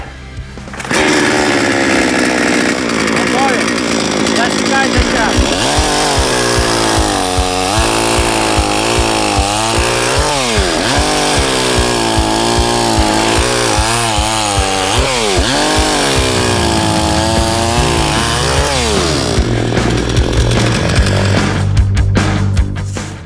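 A petrol chainsaw from a GTM tool test roars loudly and continuously, its engine pitch dipping and rising repeatedly as it bites through wood, then revving before falling quiet.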